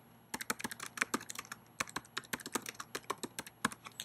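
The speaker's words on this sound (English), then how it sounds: "you're actually typing in on that contact record for it" Rapid, steady typing on a computer keyboard, dozens of close crisp key clicks in an uneven rhythm while entering notes on a contact record, with no talk.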